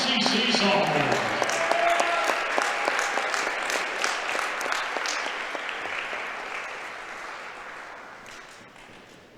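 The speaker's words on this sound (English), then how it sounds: "Let's give one more round of applause for our ICC sophomore." Applause rolls through a gym at an ICC men's basketball game against Holmes for an ICC sophomore, a dense wash of many hands that starts loud and slowly tapers off over several seconds.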